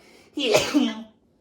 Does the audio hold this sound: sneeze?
yes